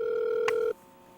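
A steady electronic phone tone with a brief click partway through, cutting off abruptly as the line connects, leaving quiet hum.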